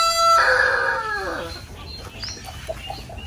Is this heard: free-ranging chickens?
yes